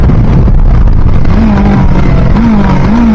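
A 2024 Yamaha R3 motorcycle engine revs loud and close before a race start, its rising and falling drone climbing in pitch over a constant rumble.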